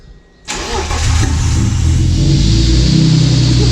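BMW E30 with a stainless Super Sprint exhaust, collector and X-pipe cranking to life after a brief starter whir, then settling into a loud, rumbling idle close by.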